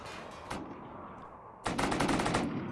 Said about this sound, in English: the turrets are going crazy immediately